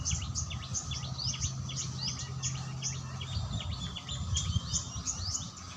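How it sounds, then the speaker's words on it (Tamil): House sparrows chirp near blooming coral jasmine, a lively chorus of quick, overlapping tweets from several birds close by over a steady low outdoor hum, with no voices. "அழகான பவள மல்லிப்பூ குருவிகளோட சிட்டுக்குருவிகள் சத்தம் இனிமையாக இருக்குது"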